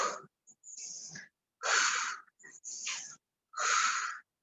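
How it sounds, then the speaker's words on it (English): Deep breaths drawn in and pushed out during a guided breathing exercise in a group fitness class, heard as a steady rhythm of breathy rushes separated by short pauses, close and fairly loud with no talking. "Breathe in and out."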